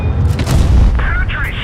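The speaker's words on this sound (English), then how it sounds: "he's firing HE at me" An HE tank shell fired at the player in World of Tanks lands as a loud booming impact with crackling debris, heavy and close over rumbling engine noise, with a voice speaking over it.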